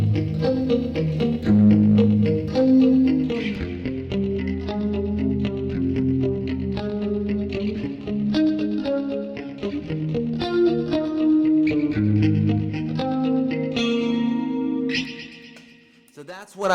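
Telecaster electric guitar played through a chorus effect, shimmering muted single notes and chord fragments with a swirling wash, played close and fairly loud.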